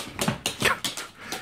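A whippet whimpers and yips in short bursts during play, about four close, bright cries over a second and a half, with no talking.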